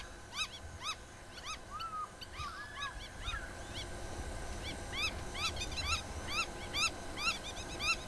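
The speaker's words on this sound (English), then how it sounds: "So many bird sounds." Many birds call at once on safari, with repeated sharp chirps and a few longer honking calls, including southern ground hornbills, against low rumbling outdoor background, moderately distant.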